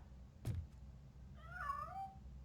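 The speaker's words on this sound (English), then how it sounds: "Мяу. Да вон он, кот." A cat in the video game RoboCop: Rogue City lets out a single clear, wavering meow after a short knock, quiet and close against a low ambient game hum.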